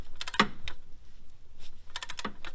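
A torque wrench clicks on throttle body bolts during a Fox Body throttle body gasket job, with sharp metallic clicks and ratchet rattles in short clusters, close and fairly quiet.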